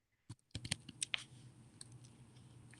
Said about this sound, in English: I think she's typing.